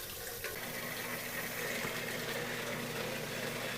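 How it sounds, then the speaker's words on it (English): Strike water for a home beer brew day running through a filter into a vessel, a steady rushing stream with a faint hum beneath, constant throughout with no voices. "Strike water being filled through the filter."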